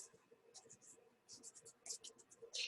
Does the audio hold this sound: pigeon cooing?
no